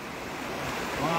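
River water flowing in the Pengelatan river, an even, close rushing wash with some wind buffeting on the microphone, continuous and moderately loud with no speech.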